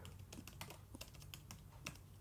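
Quiet, rapid keystrokes on a computer keyboard click in an uneven rhythm, soft and close, with no voices over them.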